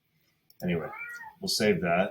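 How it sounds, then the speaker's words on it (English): A cat meows in the background while someone talks close by. The cries are brief and partly masked by the speech. "So that's the cat, guys."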